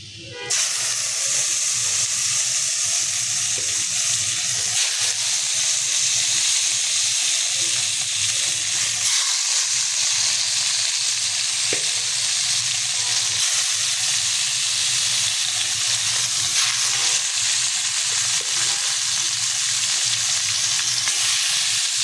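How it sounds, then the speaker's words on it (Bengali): Fish pieces frying in hot oil in a home kitchen, a steady loud sizzle and hiss that fills the whole stretch with only brief dips, no talking over it. "তেল গরম হয়ে গেছে, আমি এখন এক এক করে মাছগুলো দিয়ে দেবো"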